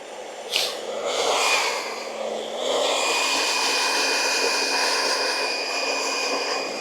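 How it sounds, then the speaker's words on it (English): Claire's hairdryer blows steadily on torn caravan awning material during a repair-tape fix, a continuous airy whoosh with a faint whine that starts up after a brief handling knock and holds fairly loud throughout. "I'm literally going to just use Claire's hairdryer, and she doesn't know I've got it, just to kind of warm and dry the area."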